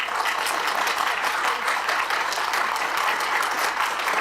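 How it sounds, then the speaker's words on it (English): A planning committee audience applauds steadily and loudly, a dense continuous wash of clapping with no pauses, heard close in the meeting room. "Can you stop clapping, please?"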